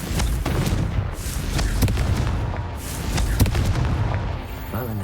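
Confringo fire spell blasts in Hogwarts Legacy, a series of loud booming explosions and sharp cracks landing in quick succession over a dense, roaring backdrop.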